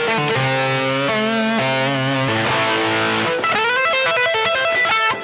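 Distorted electric guitar plays a fast tapping lick, rapid cascading notes descending across the strings with chromatic passing tones, loud and continuous with no talking.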